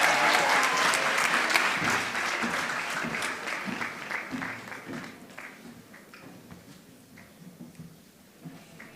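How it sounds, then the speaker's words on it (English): A graduation ceremony audience in Windhoek applauding, a broad crowd of clapping that starts strong and gradually thins out into scattered claps over nine seconds. "Another applause, please"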